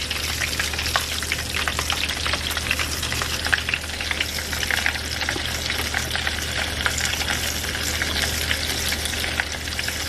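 Chicken strips fry in hot oil with a dense, steady crackle and sizzle, close and continuous for ten seconds with scattered sharper pops and no talking.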